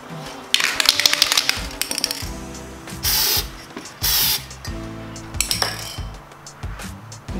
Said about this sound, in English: To get full coverage of the looking glass spray, Krylon recommends 5 coats.